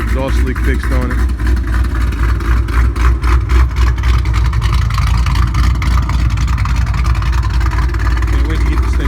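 A 2008 Mustang GT V8 with BBK long-tube headers, BBK x-pipe and Borla ATAK exhaust idles after a cold start, giving a loud, steady, deep rumble with talking over it.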